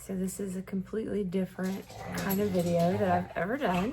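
Dogs whimper and yip in high, wavering whines near the microphone while a person talks over them throughout.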